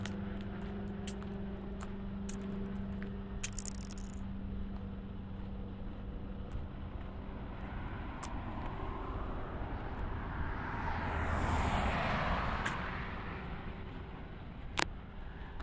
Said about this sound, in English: Let me just wait for this plane to pass and you'll understand.